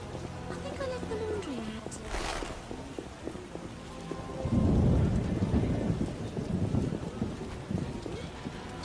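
Steady rain with rumbling thunder in The Witcher video game's city of Vizima, a deep roll swelling midway and continuing under the downpour, with brief game voices heard early.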